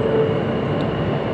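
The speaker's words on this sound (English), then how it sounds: "I'm on the train." Steady rumbling drone inside a moving train carriage, a constant low roar with a faint whine and no distinct events, loud and even throughout with nobody speaking.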